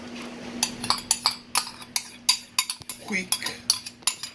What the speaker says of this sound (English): I'm going to add my crushed tomatoes